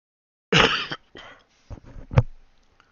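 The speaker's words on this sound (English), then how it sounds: "Sorry about the cough into the mic." A few sharp coughs burst right against a microphone, loud and close, with short pauses between them and a final throat-clearing cough.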